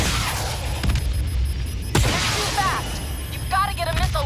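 Booming flak bursts in the Call of Duty Black Ops video game, a couple of sharp blasts over a constant roar of engines and battle noise, with voices talking in the mix.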